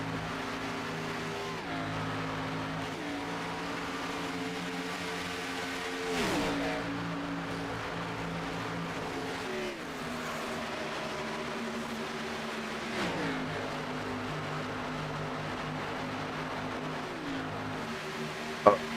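Race cars run at Auto Club Speedway in an Apex Racing Cup Series event, engines droning steadily and repeatedly rising in pitch then dropping sharply at each gear shift, as the pack stays bunched together.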